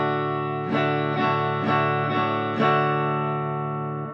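Acoustic-style guitar strummed in a beginner rhythm measure: five clear strokes land at a steady pace over ringing chords, close and fairly loud with no talking.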